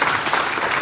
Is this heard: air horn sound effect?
no